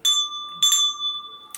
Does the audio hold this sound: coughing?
no